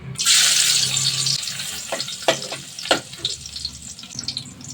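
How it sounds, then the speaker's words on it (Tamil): Chopped garlic dropped into hot oil in a kadai for veg fried rice, giving a sharp, loud hiss that rises at once and then settles into softer sizzling broken by a few clinks and scrapes. "எண்ணெய் காஞ்சிச்சு. இதில் நம்ம பூண்டு போட்டுக்கலாம், கட் பண்ணி வச்ச பூண்டு."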